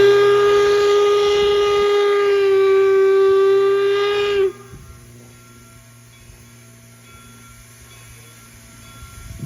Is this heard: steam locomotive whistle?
yes